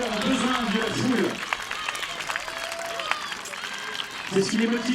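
A crowd cheers and applauds gladiators fighting in an ancient-style arena show, a steady wash of clapping and shouts that swells at times, with a voice talking over it.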